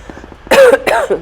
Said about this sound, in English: excuse me, I'm still coughing from all the COVID stuff.